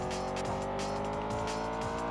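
Lamborghini driving in the PS2 racing game Test Drive Unlimited, a steady engine drone with brief tire squeals, loud and continuous over two seconds with no talk.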